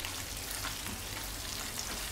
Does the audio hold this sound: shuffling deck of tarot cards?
no